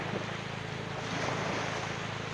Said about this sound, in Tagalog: Ayan, alon dyan.